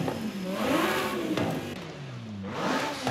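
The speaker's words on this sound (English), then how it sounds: "The V10 doesn't sound that great, to be honest." A V10 engine fitted to a McLaren 620R in Forza Horizon 5 revs up and down in rising and falling sweeps, loud and close, with a brief drop near the end before climbing again.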